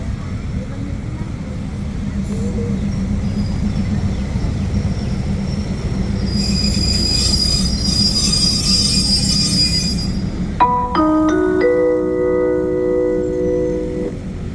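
Train 262 braking into Ban Pong station in Thailand, a steady rolling rumble of railcars with a high metallic wheel squeal rising midway and sustained squeals near the stop, loud and close.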